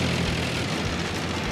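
A 1950–1952 Ford 8N tractor engine runs in fourth gear, a steady, loud, low mechanical drone that continues without a break.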